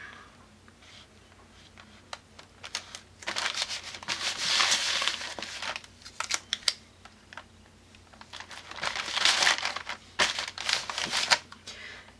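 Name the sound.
paper being cut and crumpled for an art journal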